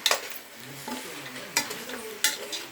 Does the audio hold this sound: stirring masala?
yes